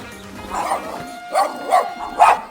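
A dog along a coastal Camino Portuguese walking route gives a few short yips and whimpering barks at moderate distance, spaced irregularly over a quiet outdoor background.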